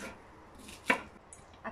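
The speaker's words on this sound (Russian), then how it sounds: "Возьмем одну луковицу и нарежем ее произвольными кусочками." A knife cuts an onion into rough pieces on a board, giving a few faint, sparse chopping taps with one sharper knock in the middle, heard close and alone.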